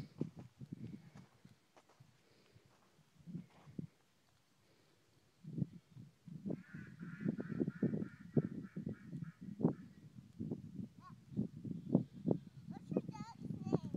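A duck or goose honks in short, irregular bursts, close by and loud, among footsteps and rustling during an outdoor ride-around, with people talking over much of it.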